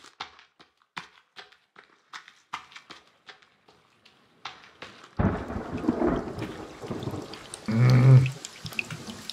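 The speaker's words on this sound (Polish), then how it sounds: "Mało zawału nie dostałem przez tą burzę" A thunderstorm in the survival video game The Forest: scattered clicks and taps first, then a loud rolling thunder crash with rain that builds and swells near the end, no talk.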